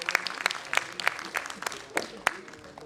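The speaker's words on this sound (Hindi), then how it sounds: "हमारे सभी स्पीकर्स के लिए एक बार जोरदार तालियां दोस्तों बजा दें।" An audience at a panel discussion claps for the speakers, a scattered round of applause with distinct individual claps rather than a dense roar, fairly close.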